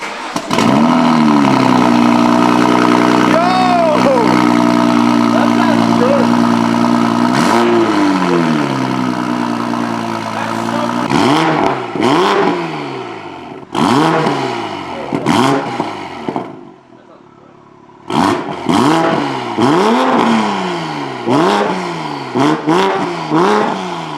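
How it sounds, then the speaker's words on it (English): An off-road Toyota Supra with a new exhaust revs hard indoors, loud repeated throttle blips rising and falling over a rumbling idle, a brief lull near the end, then a rapid series of sharp revs. "rev it really aggressively indoors so you can hear how it sounds"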